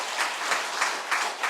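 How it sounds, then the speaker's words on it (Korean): A church congregation gives a short burst of applause for the choir, a soft, steady wash of clapping with gentle swells, fairly distant and moderately quiet, with no one speaking over it. "박수로 한번."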